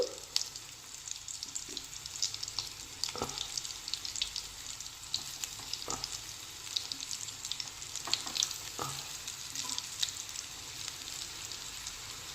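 Bitter gourd slices spread in a single layer fry in a pan with a soft, continuous sizzle, broken by a few sharper pops and crackles, with no talking.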